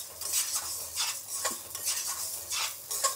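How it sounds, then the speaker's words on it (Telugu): Urad dal and chana dal fry in hot oil while a spoon stirs them, giving a soft steady sizzle broken by repeated scraping swishes against the pan at a brisk, uneven rhythm. "నూనె వేడెక్కింది, పప్పులు వేసుకుందాము. ఉద్దిపప్పు, శనగపప్పు 2 వేయించుకుందాము."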